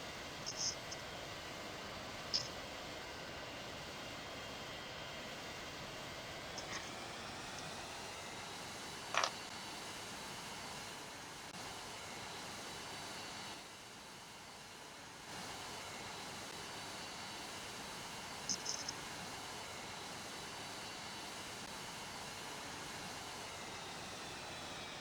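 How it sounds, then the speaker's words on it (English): Boeing 747 engines roaring through a takeoff roll in the flight game PTFS, a steady broadband jet rush that holds for the full stretch, dips briefly midway, then returns, with a few faint clicks over it. "let's take off and attempt number 2 at a Boeing 747"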